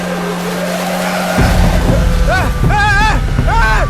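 Car engine revving hard in a Tamil movie scene, a low idle hum giving way to loud rising and falling revs with a whining pitch sweep, while someone repeatedly shouts instructions over it.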